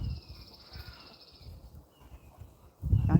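A hawk's high, thin call is heard over a farm at breakfast time, a faint drawn-out cry that is sustained for a moment and then fades, amid quiet barnyard ambience with soft animal shuffling and a louder thump near the end.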